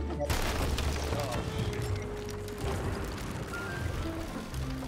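Skeleton-crewed ships fire cannons in a pirate video game, with repeated booms and gunfire-like blasts over a steady background rumble and sea noise.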